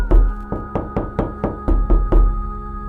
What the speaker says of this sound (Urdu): جب اس نے دوبارہ دستک سنی تو وہ چونک کر اٹھ گئی، اور اس بار یہ دستک سخت اور کافی تیز تھی